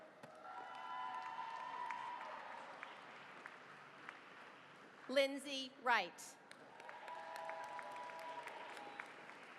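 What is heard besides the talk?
applause for nursing graduates at graduation ceremony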